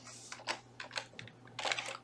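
Typing on a computer keyboard to enter a word into a Windows settings search box: a short run of soft, close keystrokes with a brief pause before the final taps.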